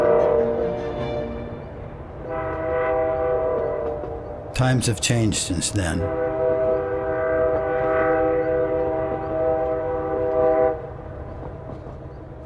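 A slow train running on tracks built through tunnels, a steady low rumble with sustained tonal drone and a short loud horn blast in the middle, while a person speaks over it.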